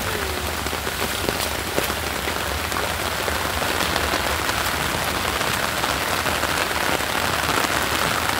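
Heavy rain pours onto a flat rooftop already flooded with water, a dense, even roar of drops splashing without a break, loud and close with no voices.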